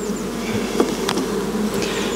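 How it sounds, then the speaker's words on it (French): Honey bees buzz steadily on a hive frame that is low on brood and glistening with nectar, a close, continuous drone with a few sharper passes of individual bees, and no voices. "Déjà les abeilles sont calmes dessus"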